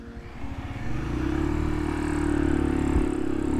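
A small mini bike engine revving close by, rising from a rough idle into a steady, buzzing higher-pitched drone that holds for the rest of the moment.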